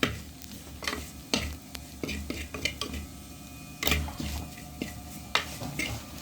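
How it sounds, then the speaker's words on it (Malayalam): Camel curry being stirred in a pan after turmeric powder goes in, with repeated scraping clinks of a spoon against the metal over a soft sizzle, and a voice talking faintly. "അടുത്തത് മഞ്ഞൾപ്പൊടി ഇടുകയാണ്. ഇനി നന്നായിട്ടൊന്ന് ഇളക്കി കൊടുക്കുക."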